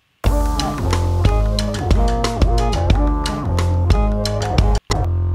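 A dense, loud music mix with a thick, punchy kick drum, reinforced by a layered replacement kick sample, thumping steadily under layered tones, broken by a brief dropout near the end.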